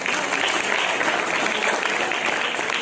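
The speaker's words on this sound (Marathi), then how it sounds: "या सर्वांसाठी जोरदार टाळ्या वाजवतो." A school audience applauds loudly after a motivational speech, with dense, steady clapping throughout and no pause.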